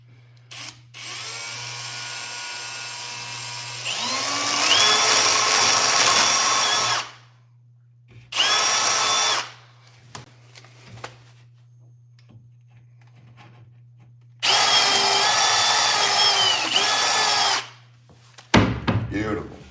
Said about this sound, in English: This drill, for some reason, is barking at me while I run it.